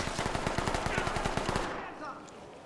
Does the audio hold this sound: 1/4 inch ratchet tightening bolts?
no